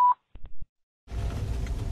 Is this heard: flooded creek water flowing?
no